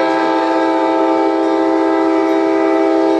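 A loud, sustained train horn blares close by, a steady multi-toned chord that holds without a break over the rumble of a passing locomotive.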